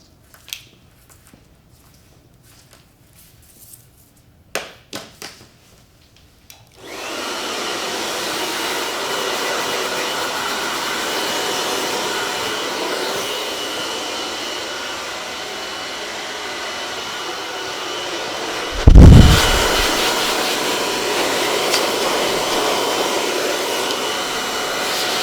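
Brief clicks and handling noises, then a hair dryer switches on and blows steadily for many seconds to dry a man's hair, with one loud bump partway through, close and continuous.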